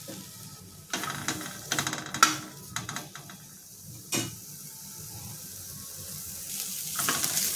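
Sliced onion roasting in a pan for a clam masala paste, with soft intermittent sizzling and several sharp scraping stirs, quiet and close, with no voices.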